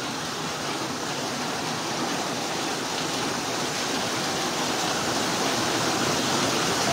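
Rushing floodwater in Montalban, Rizal makes a continuous, even roar of churning water at moderate loudness, with no other sounds standing out.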